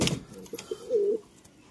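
A female pigeon coos once, a short soft throaty call close by, just after a few brief rustles and clicks.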